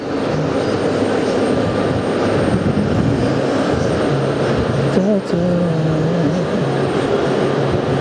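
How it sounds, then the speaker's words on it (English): A Pan Am aircraft takes off at JFK, watched from near the TWA Hotel, with a loud, steady engine roar filling the scene throughout and the gear retracting as it climbs; a voice comes in briefly. "Alright, the gear is coming up and off they go."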